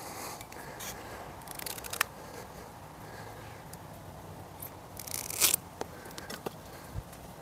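A DRENGNR 5 knife blade saws and slices through a nylon ratchet strap, giving close scraping, crackling cuts with a sharper tearing burst near the end, over quiet background noise and no talk.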